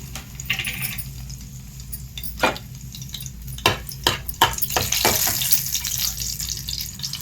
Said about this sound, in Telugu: మరిగిపోయిందని సాంబార్ తాలింపు వేసుకుంటాను.